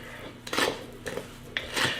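Biscuit dough worked in a bowl with a Dutch whisk, three short scraping, knocking strokes against the bowl, close up, with no talk.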